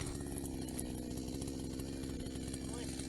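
A chainsaw runs steadily at high revs throughout, a constant buzzing engine drone that cuts off abruptly at the end.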